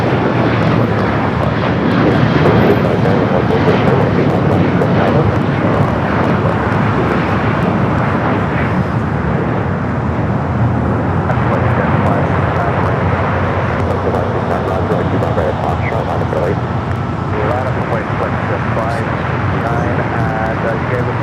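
Nippon Cargo Airlines Boeing 747-8 freighter rolling down runway 25 Right at Los Angeles International Airport, a loud, continuous jet roar with a person talking over it.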